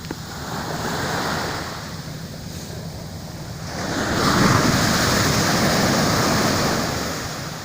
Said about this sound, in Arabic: الصوت ديال الموج كيغطي على الصوت ديالي